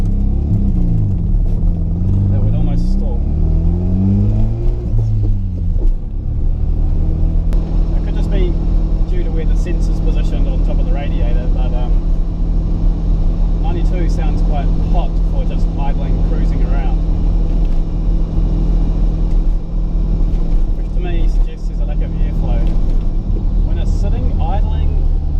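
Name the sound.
Mazda RX7 FC engine running while driving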